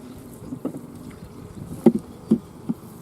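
Honey bees at a messy hive, a low steady buzz with several short, louder buzzing bursts as individual bees pass close by.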